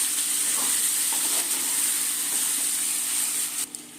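Garlic frying in oil in a pan while making a chicken dish, a steady soft sizzle and hiss with faint stirring clicks, quieting slightly near the end.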